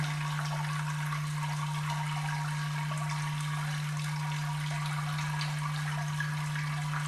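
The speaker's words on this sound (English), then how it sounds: "Now we're going to add about 2 gallons, gallon and a half, 2 gallons of hot water, and get more of the goodness out of there." Hot water pours steadily into an amber ale mash for sparging during home brewing, a continuous close splashing rush with a strong steady low hum underneath, no voices.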